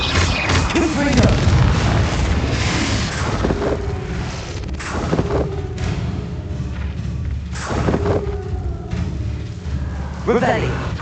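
Repeated Confringo blasting-spell explosions in the Hogwarts Legacy video game, heavy booming thuds recurring every couple of seconds over dense game sound, loud and close.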